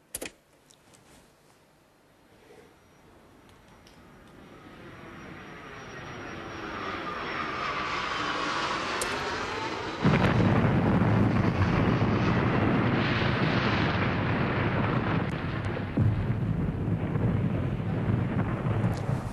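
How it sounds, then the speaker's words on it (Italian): Boeing airliner approaching and exploding: a jet roar that builds steadily from faint to loud, then an abrupt jump into a dense, sustained blast-like rumble that continues to the end. "Questo è il rumore di un Boeing che arriva,"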